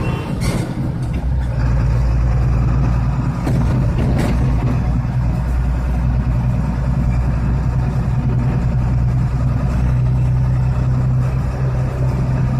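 A heavy HMV tipper truck's diesel engine drones loud and steady close by at night on a city road or highway, the low rumble shifting slightly as it moves into the next gear.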